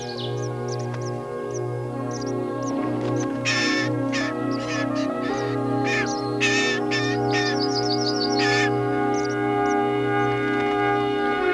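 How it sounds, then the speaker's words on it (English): A young blue jay perched on a tree limb gives a series of harsh, repeated calls over a steady background of tonal music. "A young blue jay, out on a limb."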